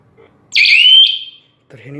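GSM burglar alarm for a home or shop gives one long, loud electronic beep lasting about three-quarters of a second, followed by a short pause and a brief stretch of speech.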